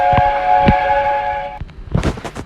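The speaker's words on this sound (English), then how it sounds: "So this is the LNER A4 WW2 Thompson in VR Black. And I'd like to show you the whistle." LNER A4 steam locomotive whistle in the Trainz video game, one sustained chime tone lasting about a second and a half, loud and close, followed by a few chuffing bursts.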